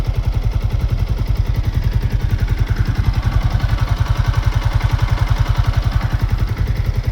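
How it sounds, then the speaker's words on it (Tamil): A Yamaha XSR155 motorcycle, sharing its engine with the R15, idles close by with a fast, even, thumping exhaust pulse that holds steady throughout, loud and alone with no talking. "வண்டியோட பீட் உங்களுக்கு கேட்குதுன்னு நினைக்கிறேன்."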